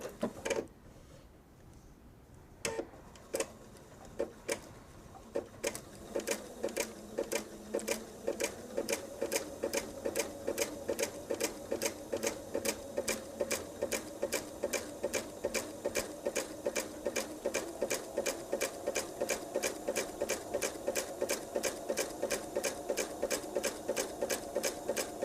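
Home sewing machine stitching a jelly roll quilt, starting on a small feeder fabric scrap: a few slow separate clicks build into a steady, close rapid mechanical chatter of evenly spaced stitches that runs on without pause.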